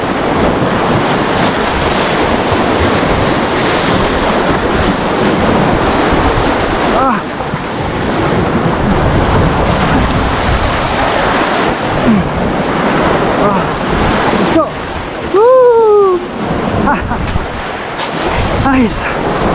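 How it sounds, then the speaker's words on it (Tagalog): Strong ocean waves surge and crash at a shoreline fishing spot under a harsh northeast monsoon wind, a continuous loud roar of surf with wind buffeting the microphone and brief talk mixed in. "Kalakas ng dugso na to."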